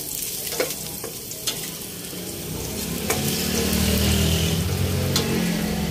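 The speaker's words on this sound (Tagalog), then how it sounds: "pag ako sinigang, ginigisa ko muna yung mga sangkap" Ingredients sautéed in a pan for pork ribs sinigang: a steady sizzle and stirring scrape, a few sharp utensil clicks, and the frying growing louder toward the end.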